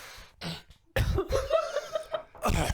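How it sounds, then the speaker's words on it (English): A few harsh coughs in short bursts, close and fairly loud, with brief gaps between them. "This is the coughing portion of the podcast."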